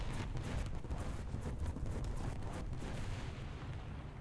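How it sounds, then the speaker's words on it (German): Artillery strike in the War Thunder tank game, heard as a dense, continuous low rumble with scattered dull booms and crackles running steadily for about four seconds, with no voices. "Leider hat unsere Artillerie auch nichts bewirkt."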